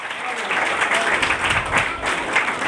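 Church congregation applauding loudly during a Hindi-Urdu sermon, a dense, steady wash of many hands clapping close and full throughout.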